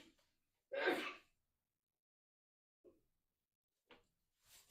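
One sharp, loud sneeze breaks the quiet, followed by a few faint, brief sounds.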